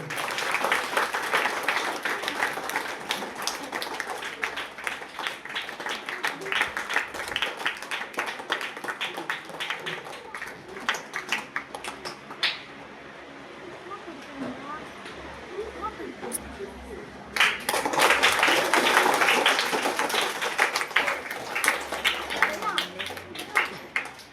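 An audience at a government school celebration of Kamaraj's birthday near Usilampatti claps in bursts, lively applause that fades to a quieter lull before rising again, with voices heard over it.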